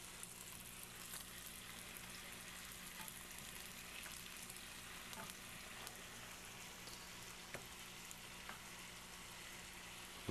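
Food fries in a pan while browning at the end of cooking. A faint, steady sizzle and crackle runs throughout with scattered small pops and no speech.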